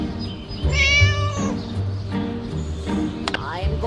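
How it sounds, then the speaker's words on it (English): A cat meows loudly in a drawn-out, wavering cry, then gives shorter mews, with a person's voice speaking over parts of it nearby. "you naughty cat!"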